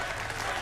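Steady applause and crowd noise from a standing ovation at an American Ninja Warrior event on Mount Midoriyama, dense and continuous through the brief moment.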